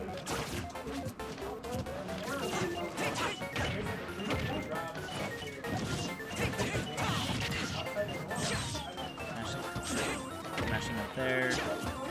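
Hits landing in a Super Smash Bros tournament match, with repeated sharp smashing impacts layered into dense game music and effects that play loudly throughout.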